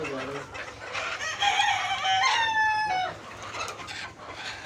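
Chickens on a poultry farm during cholera vaccination given in the breast cluck close by, with a loud drawn-out distressed squawk or crow in the middle, under low background noise.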